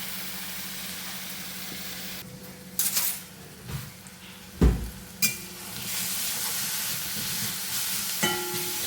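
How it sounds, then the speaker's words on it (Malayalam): Crushed shallots and chillies fry in hot coconut oil, making a continuous sizzle broken by several sharp pan knocks and scraping bursts from stirring, with no voices. "വെളിച്ചെണ്ണ ഒന്ന് ചൂടാവുമ്പോൾ അതിലേക്ക് ഉള്ളി മുളകും ചതച്ച് വച്ചേക്കണത് ഇട്ടു."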